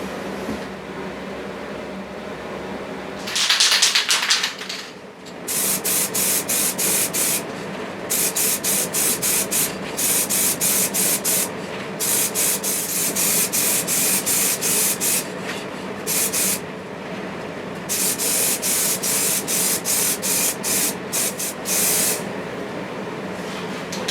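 A spray gun lays a wet coat of paint onto a car in a garage, a steady close hiss running in long bursts with brief gaps between passes, after a short louder blast near the start.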